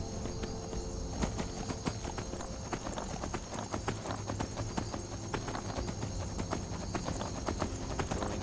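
Horse galloping in Skyrim, a steady run of clip-clop hoofbeats over continuous game ambience, with an occasional whinny and a voice briefly audible in the mix.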